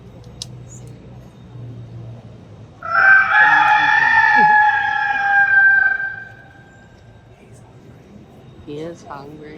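A mechanical rooster on the bell tower display in Messina, Italy, crows loudly once in a long, drawn-out call over outdoor crowd noise, with people talking nearby.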